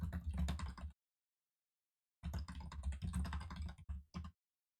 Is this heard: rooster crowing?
no